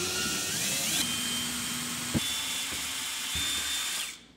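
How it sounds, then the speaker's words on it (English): A power screwdriver whirs steadily while removing Phillips screws from a Samsung refrigerator's center shelf support, a close, continuous drone with a pitch shift near the start and a sharp click midway, ending abruptly as the motor stops. "Now remove these four Phillips screws."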